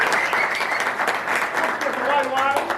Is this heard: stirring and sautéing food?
no